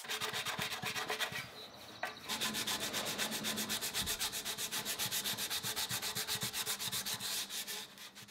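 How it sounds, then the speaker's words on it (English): Rapid rhythmic back-and-forth strokes of 80 grit sandpaper block sanding a metal Harley-Davidson 883 Sportster fuel tank, close and even-paced, with a brief pause near the middle. "So we actually block sanded this flat first, kind of going in circles."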